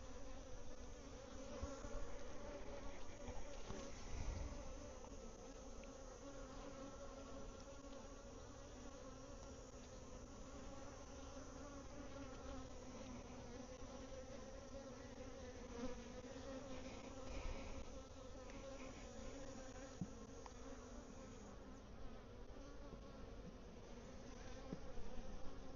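Honey bees buzzing in an outdoor bee yard, a faint, continuous low hum that stays steady for the whole stretch with no talking.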